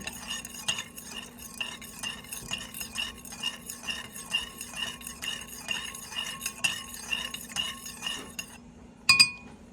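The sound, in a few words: stirring jello mix in hot water with a spoon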